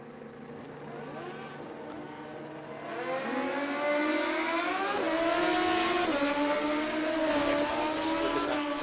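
Suzuki and Honda drag racing motorcycles launching from the start line at a drag racing championship, engines howling louder as they rev hard and climb in pitch through quick gear changes, heard from the track side.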